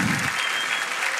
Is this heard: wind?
no